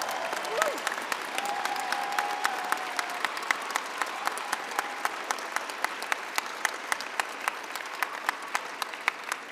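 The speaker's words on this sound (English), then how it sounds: "Stand up and give a round of applause" Audience applause at a university graduation ceremony for the Gordon Institute of Business Science, honouring an MPhil graduate; steady dense clapping from a large crowd fills the hall throughout, with a faint tone briefly audible early on.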